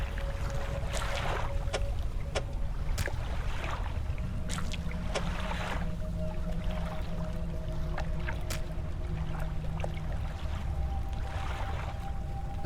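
A fishing boat engine chugs steadily in the game Dredge, a low continuous drone under lapping water and wind, with a faint tonal hum and occasional small clicks and splashes throughout.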